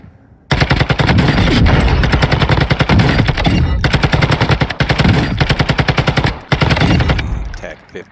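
TAC 56 rifle firing in a video game: sustained rapid automatic bursts, loud and close, with a couple of brief pauses between strings of shots and no talk.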